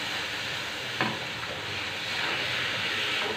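Milk being stirred into a sweet tricolour meethai mixture in a pan, giving a steady soft sizzling, scraping hiss throughout with a couple of brief spoon knocks.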